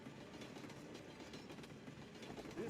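Steady low rumble of a runaway video game train loaded with explosives rolling along rails in Zombie Revenge (Sega Dreamcast), with faint rhythmic clatter and a thin squeal near the end, no talking.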